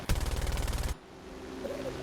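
Machine guns on a Do-17 Z-7 bomber in the War Thunder flight game fire a loud, rapid burst for about a second, then cut off, leaving a quieter engine drone.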